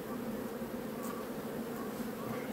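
A steady, dense hum of many honey bees buzzing close by, a continuous droning swarm sound with no talking.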